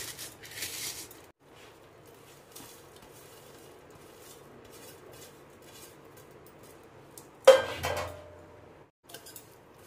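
Crushed dry fruits being stirred in a pan for Janmashtami mewa paak give soft, faint rubbing and scraping, with one brief louder clatter of a spoon against the metal pan near the end.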